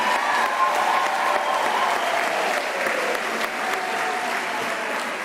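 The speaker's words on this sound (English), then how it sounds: "Let's give you an applause." Steady, dense applause from a large audience honouring graduates at a university graduation ceremony, sustained at an even, loud level throughout with no voices over it.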